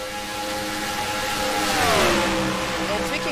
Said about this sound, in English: I love hearing that high horsepower, those high horsepower engines screaming down the back straightaway